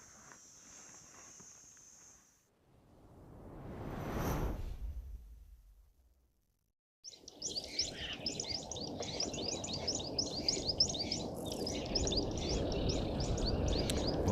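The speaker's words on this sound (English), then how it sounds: "it sounds like at Djuma there's a few more birds around" Birds chirp in a dense outdoor chorus at Djuma, many overlapping calls against a steady hiss of cicadas, after a brief whoosh passes by.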